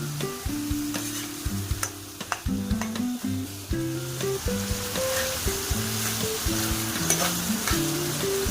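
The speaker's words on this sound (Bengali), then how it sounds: "এবার এই আদাটা ভাজা ভাজা হওয়া পর্যন্ত আমি এটাকে নাড়ব" Ginger paste frying and sizzling in a pan for a fish curry with colocasia, stirred continuously, giving close crackling and spitting with small scraping clicks. A steady melodic tune plays underneath throughout.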